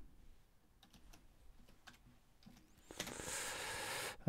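Typing on a computer keyboard while entering LaTeX text, quiet scattered key taps at first, then a louder, denser burst of keystrokes toward the end, with no voices.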